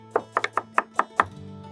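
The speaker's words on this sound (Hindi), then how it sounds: "मैं भी प्याज काट रहा हूँ" A knife chopping onions on a board in a kitchen, about seven crisp, close strikes in a quick, slightly uneven rhythm, followed by a low background hum.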